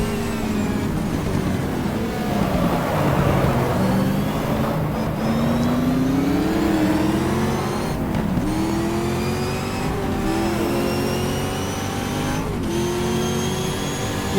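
A racing car engine in the GTR2 sim racing game at Circuit Gilles Villeneuve, revving loudly and continuously with rising and falling pitch as gears shift, close and alone, with brief tire squeal.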